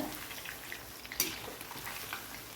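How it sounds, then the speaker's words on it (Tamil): Chicken pieces for chilli chicken deep-fry in hot oil, producing a faint continuous sizzle dotted with small crisp pops, one slightly louder than the rest. "இன்னும் கொஞ்சம் நேரம் நல்லா ஃப்ரை பண்ணிக்கோங்க"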